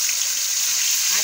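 Fish frying in hot oil in a pan, a steady, loud, bright sizzling hiss that holds unbroken throughout.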